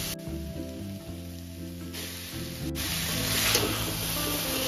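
Boiled Maggi noodles go into a pan of sizzling vegetables and sauces over medium-low flame, a steady close frying hiss that swells louder toward the end, with background music running underneath.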